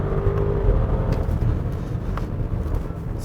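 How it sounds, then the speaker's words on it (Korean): A 2020 Bentley Bentayga V8 SUV on the road, its engine droning and revving with a deep, steady rumble over road and tyre noise, heard from inside the cabin. "V8 엔진이 들려주는 사운드 들리시나요?"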